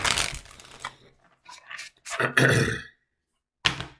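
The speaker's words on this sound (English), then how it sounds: "I'm going to shuffle one more time." A deck of tarot cards being shuffled by hand: a few dry, papery bursts of riffling and sliding separated by short pauses, close and moderately loud, with no talking.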